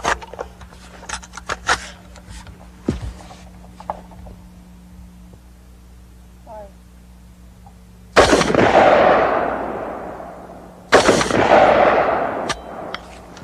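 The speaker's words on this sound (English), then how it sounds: "Just for the heck of it, we're going to try 223 tracer." Machine gun firing .223 tracer rounds at a gas tank, two loud bursts of fire with decaying rumble after each, preceded by faint scattered clicks and handling noises.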